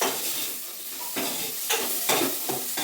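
Capsicum frying in ghee in a pan, a steady loud sizzle with repeated stirring scrapes at irregular intervals, close up and with no talking.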